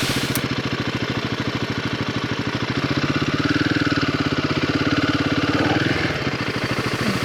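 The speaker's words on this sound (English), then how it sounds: "So I put the bike in first gear and really slowly let the clutch go whilst giving it a teeny bit of a throttle" A Royal Enfield Himalayan 450 motorcycle engine runs steadily on loose ground with an even low-pitched pulsing thrum, close to the microphone and rising slightly in revs partway through as it is eased into first gear.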